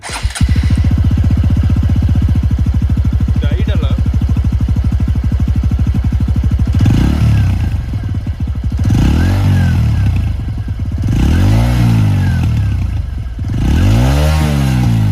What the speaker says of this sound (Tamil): அடுத்ததா இந்த வண்டியோடைய எக்ஸாஸ்ட் சவுண்ட், இது நீங்களே கேளுங்க